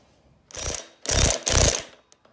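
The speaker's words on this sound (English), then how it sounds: "so we got to get off these 4 bolts" Three loud ratcheting bursts from a hand wrench working the four axle bolts loose on a Chinese ATV, close up and with no talking.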